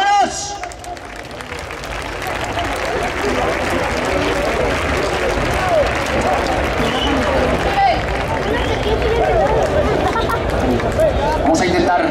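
Crowd claps steadily at a bull-cutting contest in Arévalo, a dense, continuous wash of hands and murmur lasting throughout, with an announcer's voice talking loudly over it.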